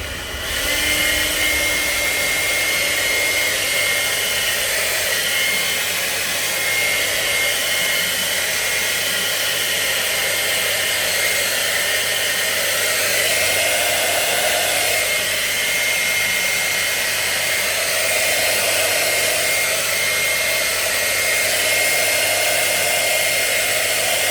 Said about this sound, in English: I'm going to dry it.